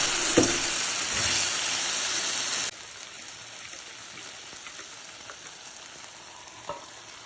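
A loud, dense sizzle of hot oil tempering poured into a raw jackfruit curry crackles close by for a few seconds, then drops abruptly to a quieter, steady simmering hiss.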